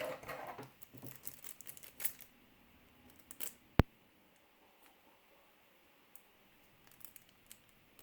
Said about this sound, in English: But I might get in there with scissors.